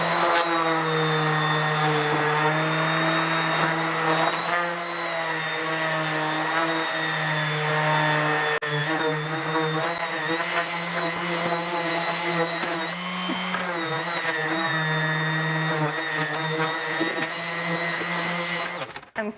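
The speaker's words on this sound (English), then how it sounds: "This is a DeWalt random orbital sander. It's 150 grit sandpaper." A DeWalt random orbital sander with 150-grit paper runs steadily on wood, a loud continuous motorized whine with a low hum that holds for the whole stretch, shifting slightly as the sander is worked across the faces and corners.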